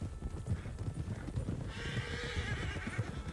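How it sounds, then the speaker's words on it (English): In Red Dead Redemption 2, herded horses clop along steadily at a trot while one neighs in a long whinny partway through, all over a busy outdoor game soundscape. "Come on, horses."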